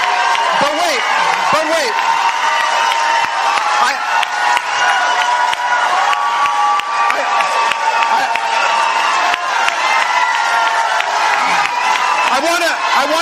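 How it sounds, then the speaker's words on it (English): Sustained audience applause and cheering in a political speech setting, a dense steady wash of clapping and crowd noise that nearly drowns out a voice speaking over it. "So you got drowned out by the applause."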